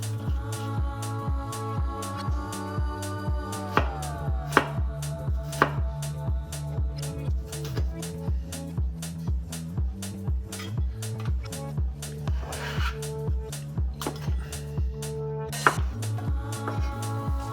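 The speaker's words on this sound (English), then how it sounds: "Dice the onion into small pieces" A knife dices onion into small pieces on a cutting board for fried rice, with steady, rapid, evenly spaced chops that continue close and clear throughout, with no talking.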